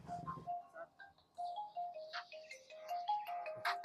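A mobile phone rings with a repeating electronic melody of short tonal notes, fairly clear and alone, with no talk over it.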